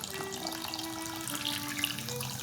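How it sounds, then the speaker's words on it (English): Soda water poured over sugar in a bowl, a quiet continuous fizzing, trickling pour lasting a couple of seconds with no talk. "We'll put the soda water over that."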